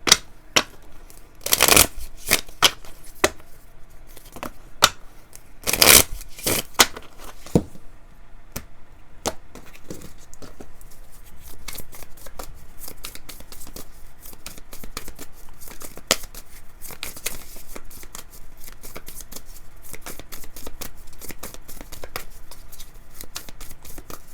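Tarot cards being shuffled, with sharp riffles and snaps early on that settle into a steady, soft stream of card-on-card rustling and flicking, close and alone.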